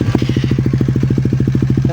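Suzuki Raider 150 Fi 2024 motorcycle with a Vhenworkz power pipe exhaust running at low RPM, a loud, steady, close putter of evenly spaced exhaust pulses with no talking.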